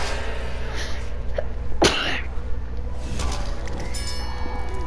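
One abrupt sneeze cuts through the steady sound of a Plants vs. Zombies: Battle for Neighborville game, with game music and effects running underneath.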